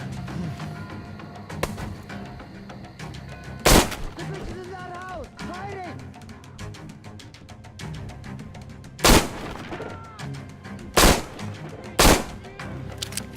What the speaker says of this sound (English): Can't see what I'm shooting at. I'm just shooting at a bush.